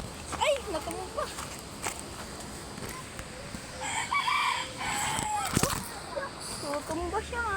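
Rooster crowing and clucking nearby in a yard, with a person talking over and between the calls and some footsteps.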